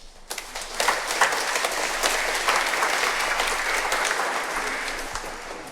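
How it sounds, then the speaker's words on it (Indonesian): A congregation applauds during a Catholic Mass for the Feast of Divine Mercy, steady mass clapping swelling after a brief start and holding evenly across the full stretch without speech. "Dengan tepuk tangan ini bukan berarti berkat Tuhan ditutup, tapi tetap terbuka."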